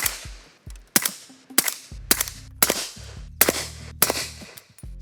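A 300 Blackout rifle fires about eight sharp, loud, close shots in quick succession. Each crack carries a brief ringing decay, and no one speaks.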